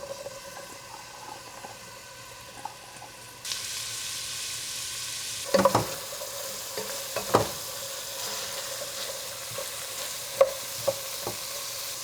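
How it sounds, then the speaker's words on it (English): Onions sautéing in a couple of tablespoons of oil, a sizzle that swells partway through, with scattered scraping clicks of a stirring utensil over a low background hum. "Add a couple of tablespoons oil and add your onions."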